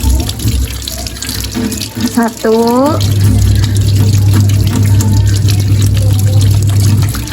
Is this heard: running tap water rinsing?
yes